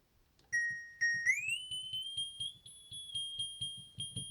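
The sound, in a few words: FM tone on analogue synth, oscillator tuned three octaves and a fifth up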